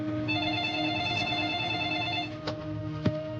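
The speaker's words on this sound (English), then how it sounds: "The phone rings in my office, and it's the FBI." Office telephone ringing with a sustained electronic bell tone that stops partway, followed by faint clicks and thumps in a quiet room; no one speaks.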